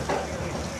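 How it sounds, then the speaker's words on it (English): Fish sears in a hot pan at a coconut festival cooking demo, making a soft, steady sizzle and hiss against a busy outdoor background. "So now we're gonna get a nice sear, get a nice golden crust on the outside"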